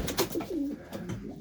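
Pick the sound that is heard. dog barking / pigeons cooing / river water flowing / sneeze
pigeons cooing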